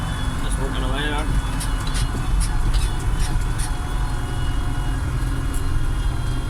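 An MB Trac 900 turbo tractor's engine drones steadily and loudly as it drives along a road, a continuous close rumble that holds constant throughout.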